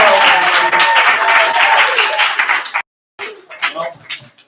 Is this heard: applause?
yes